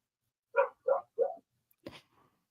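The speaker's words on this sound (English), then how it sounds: "I hear a puppy" A dog gives three quick barks in a row, then a louder, noisier burst like a sneeze or snort. Nearby, fairly loud, with no talking.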